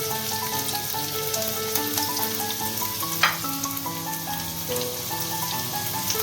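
Garlic, added after ginger, fries in a hot pan for fish noodles, giving a steady, even sizzle and crackle with a brief stir partway through. Soft background music plays underneath, and no one speaks.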